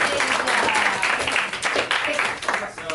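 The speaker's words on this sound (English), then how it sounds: "Clap for Miss Megan." A classroom group claps for a student, a burst of mixed, uneven clapping with voices chattering among it, the claps easing off toward the end.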